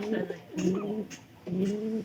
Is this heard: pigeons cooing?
yes